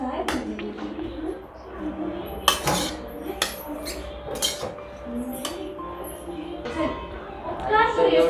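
Crispy masala corn chaat tossed with tamarind chutney in a bowl, with clinks and scrapes of a spoon against the dish coming in irregular bursts under steady nearby talk.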